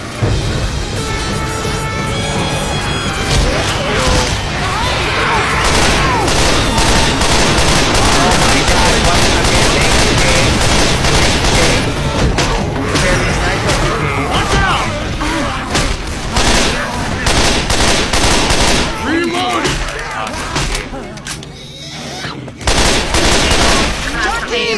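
Dense, sustained gunfire in a video game shooter: rapid automatic bursts and single shots with occasional booms, loud and continuous, with players talking over the action.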